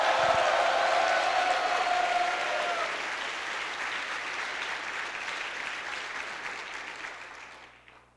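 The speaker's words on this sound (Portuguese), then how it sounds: "dê um grito de júbilo e um forte aplauso àquele que vive e reina" A church congregation claps and cheers together, a broad loud burst that slowly thins and fades away toward the end.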